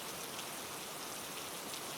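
Steady rain falls on a surface, a dense, even hiss of droplets that stays constant and fairly close with no voices.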